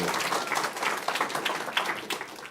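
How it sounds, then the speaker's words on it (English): Audience applause welcoming author Kazu Kibuishi, creator of Amulet, at a book event: a quiet, dense patter of many hands clapping at once, steady for a couple of seconds with no voices over it. "please help me give him a nice round of applause"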